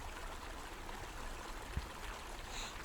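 A river stream flows in a soft, continuous trickle and wash, faint and steady, with a single brief tap partway through.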